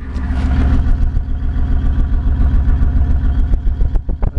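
2006 Ford Crown Victoria Police Interceptor engine idling roughly, heard near the exhaust as a loud, low, uneven rumble with slight pulsing throughout.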